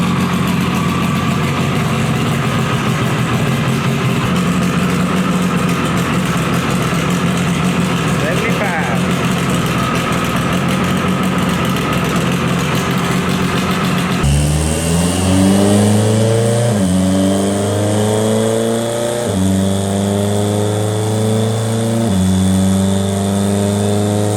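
A car on a chassis dyno, first a loud steady drone, then a sequence of rising revs through several gear changes, each pull climbing in pitch before dropping back, with speech also present.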